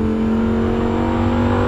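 A 620 hp Lamborghini Huracan Evo at full throttle on the Monza racetrack, a loud, steady engine drone that stays close throughout, with no voices over it.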